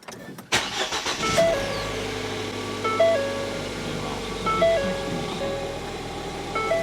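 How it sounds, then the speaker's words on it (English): A Ford Fiesta ST engine cranks and fires up with a sharp burst, then settles into a steady idle, just after a new rear motor mount has been installed; a repeating electronic chime sounds periodically over the running engine. "we're going to do the initial startup after the rear motor mount install"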